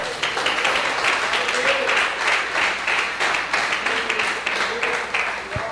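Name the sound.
church congregation applauding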